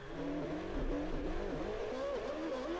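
A Formula 1 car in the racing game F1 2013, heard from the cockpit, revs up with a loud, continuous high-pitched engine whine that climbs and dips as it accelerates.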